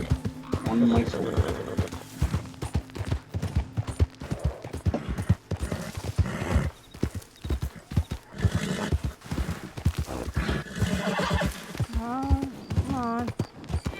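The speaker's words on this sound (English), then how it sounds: "My horse is getting kind of antsy." Horse in Red Dead Redemption Online, hooves clip-clopping in a steady walking rhythm with whinnies toward the end, heard under a person talking throughout.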